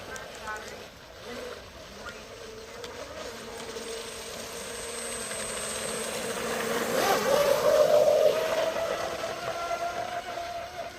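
A fast RC boat with an Octura x640 prop and 1800kv Leopard motor whines across the water at a distance, its motor pitch rising and swelling louder midway, with an excited voice talking over it.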